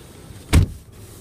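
A power window on a 2013 GMC Terrain SLT, one brief whirring motor run lasting a fraction of a second, close and loud against a quiet cabin.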